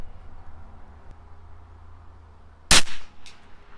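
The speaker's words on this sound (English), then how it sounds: "I'll do my 5 shots here and then we'll dial in" A single sharp report from a CZ 457 LRP .22 rifle firing Norma Match-22 ammunition at a 100-yard range, standing out loud and alone against a quiet, low background hum.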